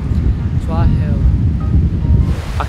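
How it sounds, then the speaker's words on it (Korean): Strong wind buffets the microphone at the seaside, a constant low roar with surf-like rushing. A faint voice and brief chirps sound through it. "아까보다 지금이 좀 더 바람이 세가지고"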